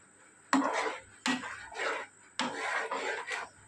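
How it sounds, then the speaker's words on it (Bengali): A spatula scrapes and rasps against a pan while paneer curry is sautéed, four or five distinct rough strokes in quick rhythm, close and fairly quiet. "এবার এটা খুব ভালো করে কষিয়ে নেব"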